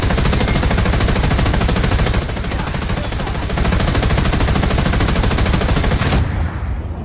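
Rapid, dense automatic gunfire from a War Thunder vehicle test drive, a sustained loud burst of machine gun and tank gun fire that runs about six seconds before cutting off abruptly.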